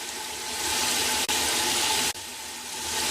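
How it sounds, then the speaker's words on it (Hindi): Water pours steadily into a cooking pot for matar pulao, ten cups added over prepared masala for the rice, a continuous broadband rush with two brief breaks between pours, close and fairly loud with no talk. "5 प्याले हमने चावलों के लिए हैं, उसमें हम 10 प्याले पानी के डाल रहे हैं।"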